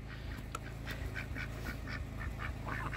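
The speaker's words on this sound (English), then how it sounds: "The ducks absolutely crack me up." Several farm ducks quack in short, nasal bursts, close by, over a steady low hum.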